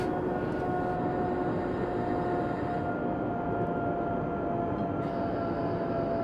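A train running in the video game Train Sim 2015 makes a steady, loud rumbling roar that stays even throughout, with no talking over it.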